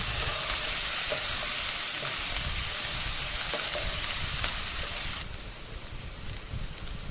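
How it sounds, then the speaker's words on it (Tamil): Chopped onion sautéing with curry leaves and green chilies in hot oil, a close, continuous crackling sizzle with occasional stirring taps, dropping abruptly to a quieter sizzle near the end. "அப்புறம் ஒரு பெரிய வெங்காயம் ஆட் பண்ணி சாட்டே பண்ணிடுங்க."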